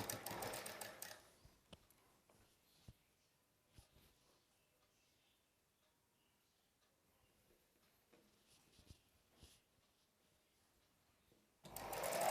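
A sewing machine stitches a prince cut saree blouse in loud rapid bursts at the start and end, with quiet ticks and handling clicks between.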